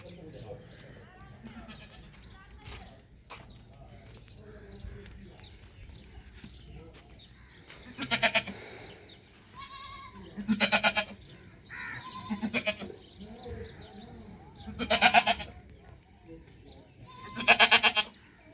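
A young goat bought for Eid sacrifice bleats several times while being bathed outdoors, its loud, repeated calls rising over background chatter and people talking nearby.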